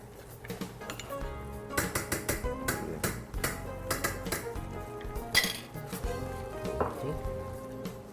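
A spoon scrapes and knocks against a pan as butter is beaten into risotto, with irregular clattering strokes and a faint sizzle close by, and no voices.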